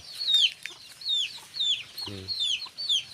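Brahma chickens clucking and calling in short repeated bursts, fairly close, with a brief low thud partway through and faint background noise.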